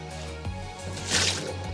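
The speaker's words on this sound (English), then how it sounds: "We drain the water." Water drained from a pot of boiled sweet potatoes pours and splashes in a short hissing rush, close and fairly quiet, over a low steady hum.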